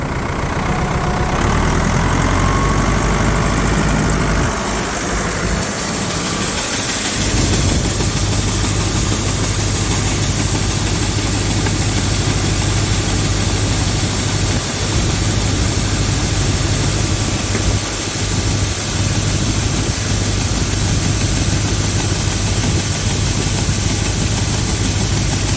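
A vehicle engine idles while warming up before hauling corn, a loud, steady low rumble with heavy vibration running throughout.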